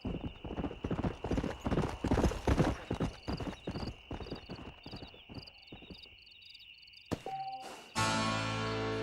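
A stallion's hooves clip-clop in a rapid rhythmic gallop in Red Dead Redemption, slowing to a few scattered steps, with a steady tonal hum and game sounds at the end.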